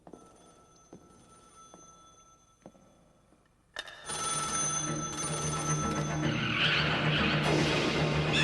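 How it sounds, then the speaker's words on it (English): A telephone bell rings faintly a few times at a steady pace, then a louder, noisy wash of sound swells in and takes over. "the sound of a telephone ringing in the cave"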